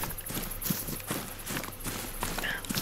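Hoofed footsteps of roe deer close by in a deer hunting video game, a steady run of crisp clip-clop steps stomping loud and near over a faint outdoor background.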